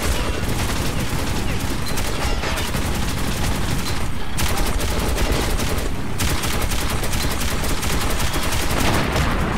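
Continuous loud automatic gunfire in Metro 2033 Redux during trolley combat in the depot, a dense unbroken rattle with a couple of brief dips as the gun overheats.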